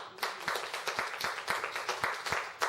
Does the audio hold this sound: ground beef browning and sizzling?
no